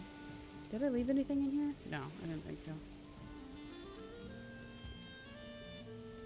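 Steady storm rain hisses in the video game Valheim, a constant wash heard beneath a man's speech and soft sustained background tones.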